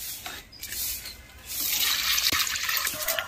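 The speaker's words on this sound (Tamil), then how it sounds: "கலந்து வச்ச எல்லா கரைசலையும் செடிக்கு ஒவ்வொரு செடிக்கு 1/4 டப்பாக ஊற்றிடலாம்" Mixed liquid fertilizer solution is poured from a container onto rose plants, giving a steady, close splashing trickle of liquid with no talking.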